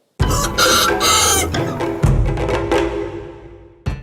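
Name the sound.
Dong Tao dragon chicken clucking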